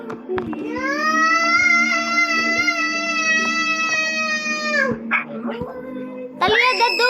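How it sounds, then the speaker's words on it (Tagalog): A puppy lets out one long, high, drawn-out whine that wavers slightly in pitch, then breaks into a few shorter yips and whimpers near the end, close by and loud. "the dog is getting angry na."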